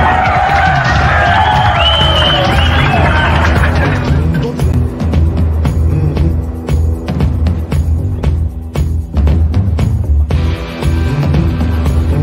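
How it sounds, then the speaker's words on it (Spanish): Crowd cheering and applauding loudly as prisoners flee by helicopter, a dense roar of voices and claps with shouts, over a steady low mechanical drone throughout. "Mira la gente como aplaude porque se fugaron"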